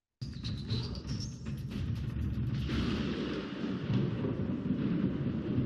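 Storm effects with rumbling thunder in rhythmic gymnastics music, a low continuous roll that swells after a high whistling start and stays moderately loud throughout, without any voices.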